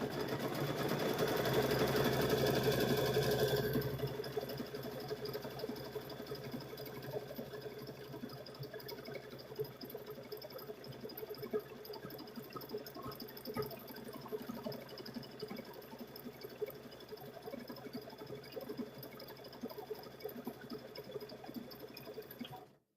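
A sewing machine runs a blanket stitch along a quilted Halloween tote bag, its motor buzzing briefly louder at the start and then settling into a faint, steady, rhythmic stitching hum.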